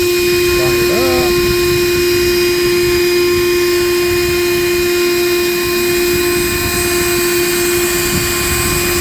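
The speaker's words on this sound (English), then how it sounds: "let's drill some holes" A loud, steady high-pitched whine of a power drill boring holes into balsa-cored fiberglass on a boat, running continuously at close range, with a faint voice briefly audible near the start.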